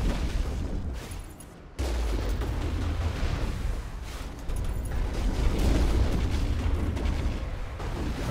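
Rocket explosions fired by rocket troopers in the Mass Effect video game, heavy booming blasts rolling over one another in a loud, dense, continuous barrage with a brief drop partway through.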